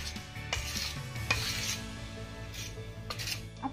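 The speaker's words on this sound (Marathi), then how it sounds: "आता हा चमच्याच्या साहाय्याने छान असा मिक्स करून घ्यायचा आहे" A spoon stirs wheat-flour starch paste in a metal pot, with scraping and clinking strokes at an irregular pace, close and fairly quiet, no voices.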